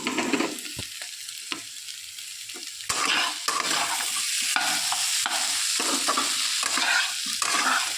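Ground cumin paste hits hot oil and sizzles loudly and steadily at close range, with stirring scrapes and a sharp burst of frying partway through. No one speaks.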